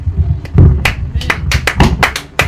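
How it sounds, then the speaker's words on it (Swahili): Church congregation clapping at a healing service, a loud burst of uneven hand claps and taps in quick irregular rhythm, close and lively. "Pigie makofi Bwana Yesu"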